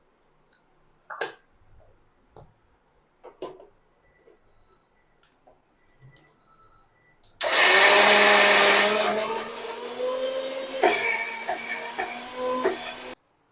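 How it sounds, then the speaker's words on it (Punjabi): A mixer grinder grinds soaked urad dal, starting abruptly and whirring loudly for several seconds, its motor pitch shifting as the batter thickens, after some quiet clicks and handling sounds. "ਇਹ ਸਾਰੇ ਮਿਕਸੀ 'ਚ ਪੀ ਲਿਆ ਤੇ ਚੰਗੀ ਤਰ੍ਹਾਂ ਬਰੀਕ ਕਰ ਲਿਆ"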